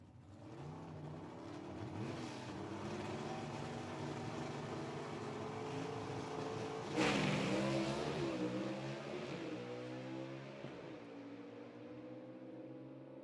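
Drag racing cars accelerate down the strip at Rockingham Dragway during the RAM Clutches Nationals, their engines roaring at a distance and rising in pitch, with a louder burst partway through as they pass, then fading away.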